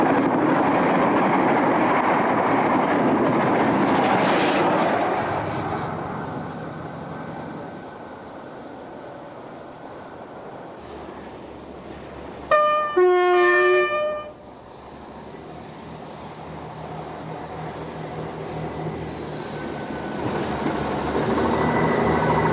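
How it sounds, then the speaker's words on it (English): A passenger train from Penzance to Paddington passes at Exeter. A low rolling rumble fades away, a loud two-tone horn sounds briefly near the middle, and the rumble swells again toward the end; no one speaks. "This is the 1445 Penzance to Paddington."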